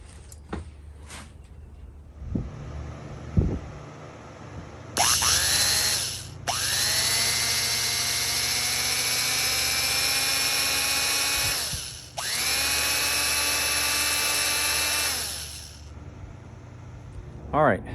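A vintage All Timer Model 549 electric drill, an oddball laser-gun-styled restored tool, whirs with a high, steady whine in several long runs, spinning up and winding down between bursts.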